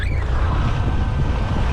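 Motorboat engine running in shallow water, a steady low rumble with wind buffeting the microphone, loud and close throughout with no voices.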